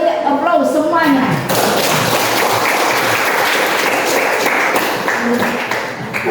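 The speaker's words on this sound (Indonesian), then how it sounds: "Diberi aplaus semuanya." A classroom of students bursts into applause, dense clapping that swells in after a teacher's spoken prompt and carries on steadily to the end.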